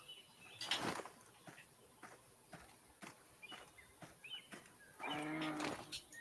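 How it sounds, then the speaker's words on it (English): Cattle in the Cabela's Pro Hunts hunting video game take off running, with a couple of sharp bursts early on and a louder, drawn-out bellowing rush near the end over a quiet outdoor backdrop. "those were cows that took off"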